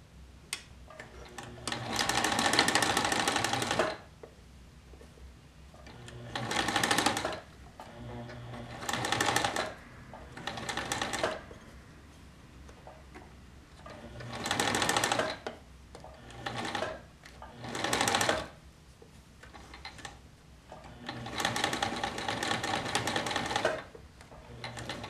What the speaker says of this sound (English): I'm going to start with my 1/4 of an inch seam allowance on the side seams.